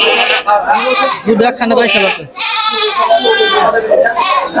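Native goats bleat repeatedly at a roadside cattle market beside a highway in Tangail, their loud, wavering cries overlapping close by while people talk throughout.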